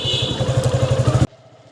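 A Kawasaki Ninja motorcycle engine idles with a quick, even throbbing pulse close by, then cuts off abruptly, leaving near silence.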